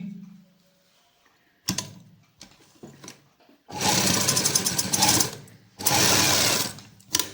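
A sewing machine runs in bursts while stitching a sleeve seam on a Pakistani-style garment, with short stops and starts and two long, steady runs of close, buzzing stitching; no talking.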